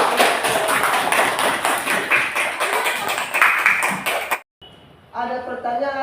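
A classroom of students claps together for about four seconds, a dense, steady patter of many hands close by, which then stops and gives way to a voice speaking.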